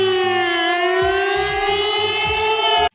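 A loud emergency siren sounds a national blackout alert, a sustained wailing tone that rises slightly in pitch before cutting off abruptly.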